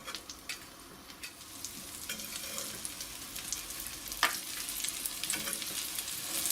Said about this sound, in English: put them in a frying pan with some butter or oil